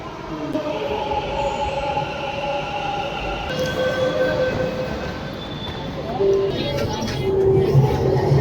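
A metro train pulls into a station platform, its low rumble swelling while long squealing whines from the wheels and brakes rise and shift, loud and near, with a faint murmur of people in the background.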